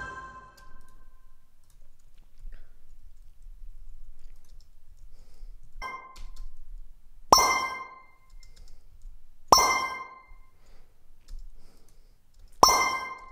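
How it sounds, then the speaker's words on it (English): A soft chime from a synthesized mobile notification tone made in Cubase/Nuendo, followed by four sharper plucked, clinking pings at irregular intervals, each short and decaying quickly against a quiet background with no voices. "So we created three different notification sounds."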